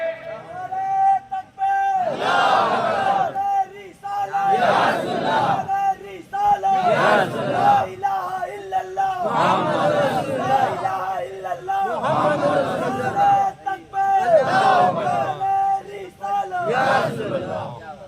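A large crowd at an Islamic religious speech chants slogans in loud, rhythmic bursts roughly every two to three seconds. A leading voice calls out between the bursts and the crowd answers in unison.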